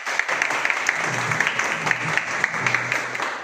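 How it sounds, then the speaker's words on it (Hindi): An audience at a business venue gathering gives a loud round of applause to welcome new guests: dense, sustained clapping from many hands, close and steady throughout. "उनके लिए एक बार जोरदार ताली बजाइए"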